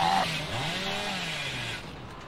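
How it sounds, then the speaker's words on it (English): Hillbilly's chainsaw in the video game Dead by Daylight revs with a buzzing, whining motor tone that rises and falls in pitch. It runs continuously and fairly loud, then tapers off near the end. "Trying to use my chainsaw way too much here"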